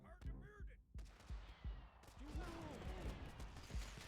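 Gunfire from a TABS battle, rapid overlapping shots in a dense volley of sharp cracks, with an excited voice talking over the shooting.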